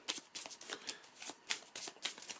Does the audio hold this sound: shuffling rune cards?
yes